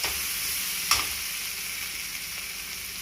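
Vegetables frying in a pan as the base for a red sauce pasta: a soft, steady sizzle with faint stirring, one brief clack of a utensil near the start, and no talking.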